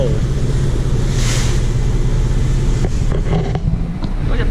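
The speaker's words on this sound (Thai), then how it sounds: "ดูคลื่นสาดทุกคน" Waves splash against a ferry crossing to Koh Samui, a constant loud roar of rushing water with engine rumble and wind buffeting beneath it, carrying on steadily throughout.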